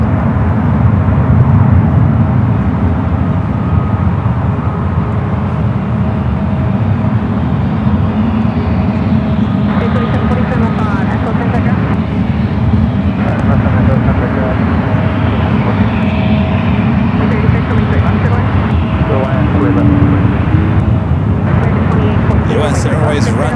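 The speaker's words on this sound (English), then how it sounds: "Dreamliner up next for arrival on the 28s." A Boeing 787 Dreamliner arrives on runway 28 at San Francisco Airport, heard as a continuous low jet-engine rumble, steady and moderately loud, with a voice talking over it at times.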